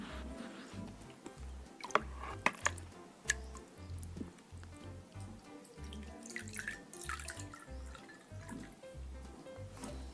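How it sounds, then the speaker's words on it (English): Water is poured from a cup into a kitchen bowl to fill it, a close, steady splashing trickle with a low rhythmic pulsing beneath it and a few sharp clinks, with no talking. "Now, let us fill this bowl."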